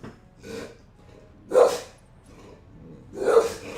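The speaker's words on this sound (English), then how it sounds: "my dog saw a squirrel through the window. He was not happy about the squirrel." A dog barks excitedly at a squirrel seen through a window indoors, giving three separate sharp barks spaced about a second and a half apart, fairly close and loud, with faint background sound between them.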